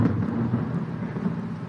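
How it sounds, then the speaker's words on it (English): A storm's thunder rolls as a low, muffled rumble, steady and somewhat distant, with no speech over it. "Is that a storm?"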